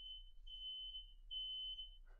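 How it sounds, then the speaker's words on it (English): A smoke detector alarm sounds as a faint, continuous high-pitched tone pulsing in slight swells over a low background hum, with a brief murmur at the end. "Little fire alarm going off."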